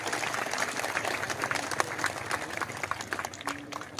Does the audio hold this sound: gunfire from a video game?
no